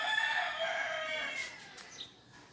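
A rooster crows once, a long strained cry that trails off, followed by quieter background noise and a faint bird chirp.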